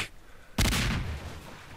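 A single sharp cannon-like gunshot booms in a pirate ship battle in Garry's Mod, a heavy blast that decays over about a second.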